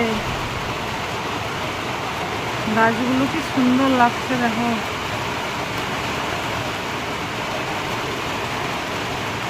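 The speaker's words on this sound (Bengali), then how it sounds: "দেখো বন্ধুরা কি পরিমাণ বৃষ্টি হচ্ছে" Heavy rain falls in a constant broad wash of noise, and a voice speaks briefly partway through.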